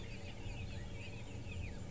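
A francolin calls in the bush, faint repeated raspy notes over a low steady background hum.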